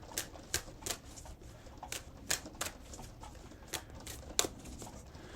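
Tarot cards being shuffled and a card drawn, with a series of sharp, close riffling snaps at irregular intervals over a quiet background.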